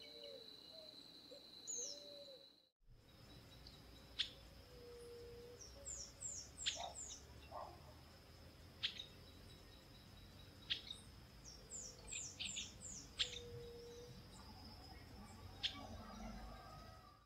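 A piratic flycatcher sings repeated short, high whistled phrases in clusters against a quiet outdoor background, with a few sharp chips mixed in.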